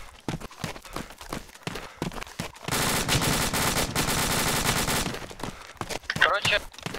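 Bursts of automatic gunfire from friendly troops in ArmA 2 with the ACE mod, a dense sustained volley in the middle between scattered shots, with voices talking around it.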